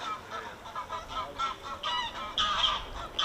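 Geese honk repeatedly from an island, a noisy chorus of overlapping calls that grows louder and more insistent toward the end, with no talk over it.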